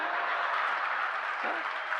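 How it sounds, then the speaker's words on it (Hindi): Steady, dense clapping from the audience at a Hindi comic poetry show, a continuous even wash of applause from a crowd. "तालियां बहुत कम बज रही"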